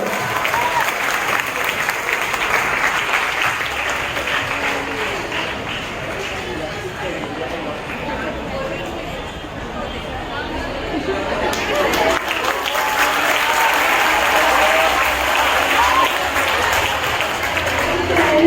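Loud, continuous audience applause rings out at a school prize-giving ceremony, dense clapping holding steady and swelling slightly toward the end.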